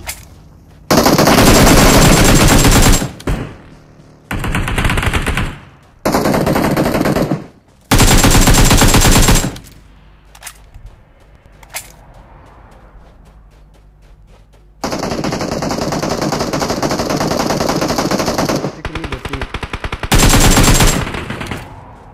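Loud bursts of automatic gunfire in a video game rattle off in long sustained streams, separated by short pauses, with a few single shots in between; no voices.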